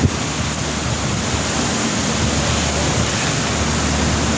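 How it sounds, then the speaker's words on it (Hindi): Heavy stormy rain and wind in Gujranwala, a steady dense roar of downpour and gusting air filling the scene evenly and loudly, with no voices. "बहुत तेज़ तूफ़ानी अंधेरी और बहुत तेज़ बारिश"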